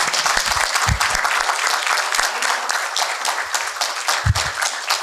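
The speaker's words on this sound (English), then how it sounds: "let's have a round of applause for our speakers here" A live audience applauds panel speakers at a 2019 business summit, with steady dense clapping lasting throughout at close, even loudness.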